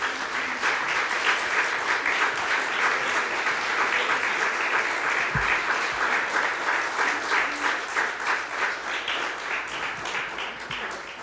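Steady applause from a church congregation, many hands clapping together in a dense, even wash that holds at full strength throughout without any voices on top.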